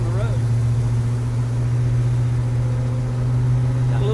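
Apache truck engine running steadily while being driven, a strong low drone with constant harmonics throughout, close and loud, with faint talk near the end.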